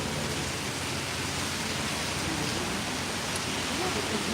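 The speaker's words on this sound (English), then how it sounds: "This rain is bucketing down now." Heavy rain pours down in a dense, even wash of hiss that stays constant and close throughout, with no break or change in intensity.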